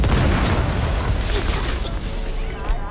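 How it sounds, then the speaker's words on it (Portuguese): Grenade explosion in the video game Cyberpunk 2077, a heavy low boom at the start that rumbles and fades over a few seconds, with some rattling debris and faint mechanical noise following. "é granada mesmo."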